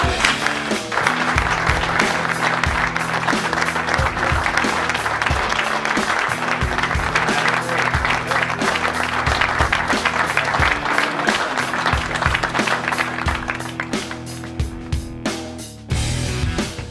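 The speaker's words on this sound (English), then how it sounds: "Big round of applause for the man who started this organization." A loud, sustained round of applause from a crowd honoring an organization's founder, dense clapping that carries on steadily for well over ten seconds with music-like tones beneath, then thins out near the end.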